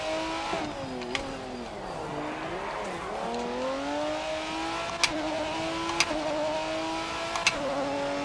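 Race car in a racing video game revving hard in first gear with its rear wheels locking up: a loud engine note rising and falling between shifts, with squealing tyres and a few sharp clicks, no talk.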